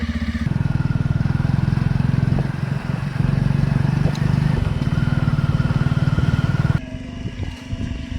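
A new motorcycle's engine runs close by with a steady, loud, throbbing rumble for several seconds, then drops abruptly to a quieter, rougher idle near the end.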